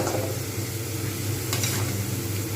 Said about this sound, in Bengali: আমাকে এটাকে নেড়ে যেতে হবে থামালে কিন্তু চলবে না